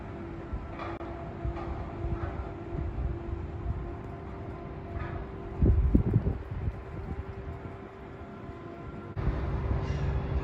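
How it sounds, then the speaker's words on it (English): A CSX northbound mixed freight train passes near the Tennessee River at Decatur, Alabama, a steady low rumble of rolling cars with wind noise on the microphone and a louder clattering surge midway. "So here's the first train I saw."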